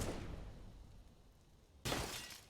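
Glass shatters from gunfire in a Counter-Strike match on the Train map: a soft fading noise gives way to a single sudden, bright burst of breaking glass that rings out briefly in an otherwise quiet scene.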